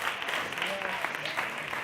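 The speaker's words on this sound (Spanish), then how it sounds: "Un aplauso grande una vez más a todos," An audience applauds at the closing event of an international culinary entrepreneurs' forum, a dense, steady wash of clapping filling the whole moment at moderate loudness with no clear pauses.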